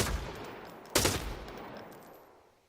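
Gunfire at a video game shooting range: a loud opening shot, then a second sharp blast about a second later, each followed by a long decaying echo, with no talking.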